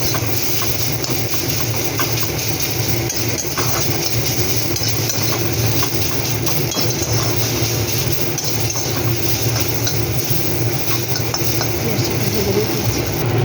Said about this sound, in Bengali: একটা মিডিয়াম সাইজের পেঁয়াজ একটু ভেজে নেবো।